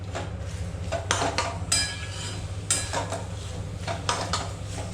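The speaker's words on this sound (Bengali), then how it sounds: "কিছুক্ষণ নাড়াচাড়া করে নিয়েছি" A spoon stirs pre-boiled chicken in a pan for chicken bharta. It makes soft, irregular metallic scrapes and clinks against the pan over a low steady background hum, close and fairly quiet.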